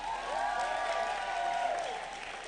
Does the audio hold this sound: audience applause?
yes